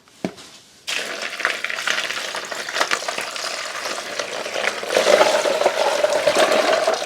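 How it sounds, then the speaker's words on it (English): Water pours steadily onto a container of ice, beginning after a brief click with a loud, continuous rushing splash that swells slightly toward the end, close up and without speech. "Now we add on the water."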